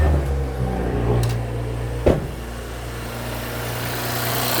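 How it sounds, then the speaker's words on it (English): An Audi S5 B9 Sportback engine runs at a steady idle after starting, a constant low hum with a brief knock near the middle, no talking. "Now that we have the car running again"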